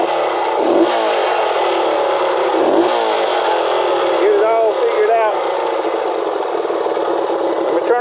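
A Honda CL175 motorcycle engine runs nearby at a steady, buzzing idle, with a couple of blips of revving early on, while a person talks over it.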